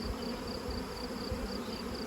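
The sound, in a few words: honey bees buzzing at an open hive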